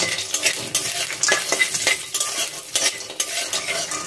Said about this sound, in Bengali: এই তেলের মধ্যে দিয়ে দেবো বেশ কিছুটা পরিমাণে বড়ি। বড়িটা এখন লাল লাল করে ভেজে নেব।